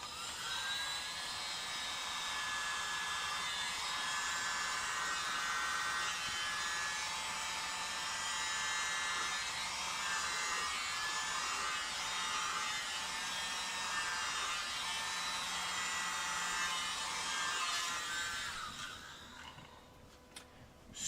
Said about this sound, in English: And to blow it out, let's use the mini blower.